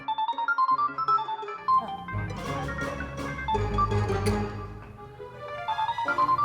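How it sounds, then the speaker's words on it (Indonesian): A mobile phone ringtone plays as a melodic electronic tune, loud and close, with a fuller, busier middle section, heard alone without talk. "Kayaknya handphone abang udah bunyi."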